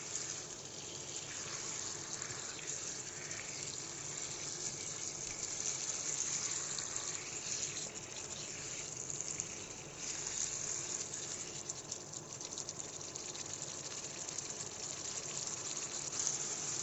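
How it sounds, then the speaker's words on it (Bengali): Water pours steadily into a pot of spiced country chicken that is being cooked, making a continuous, even gushing hiss that lasts throughout with no talking. "তো আমি এখানে পানি অ্যাড করব"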